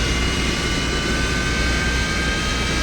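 A Yak-40 jet's AI-25 engine spools up inside a flight simulator, a constant loud roar with a thin rising whine running steadily throughout, heard alone.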